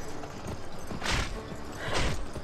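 Horse hooves clip-clop at a steady gallop in the western game Gun, loud and close, with two rushing whooshes of wind or movement layered over the rhythmic beats.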